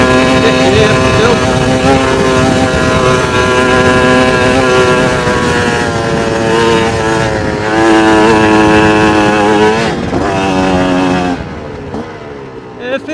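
A Chinese dirt bike engine drones steadily while riding in sixth gear, a loud, close and continuous buzzing tone that holds its pitch, wavers briefly near the end and then eases off.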